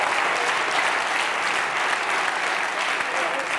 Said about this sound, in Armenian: եկեք ծափարենք Ռիտային